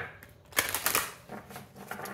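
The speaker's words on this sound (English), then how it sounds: "Okay, so let me just get to shuffling." Oracle and tarot cards are shuffled by hand up close, a series of quick riffling bursts and soft flicks with short pauses between them.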